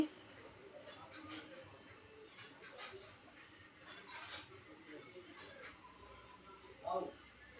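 A metal spoon clinks against a cooking pot while stuffed brinjal curry is stirred, with a few faint, scattered taps spread across the moment and a soft louder knock near the end, quiet and close.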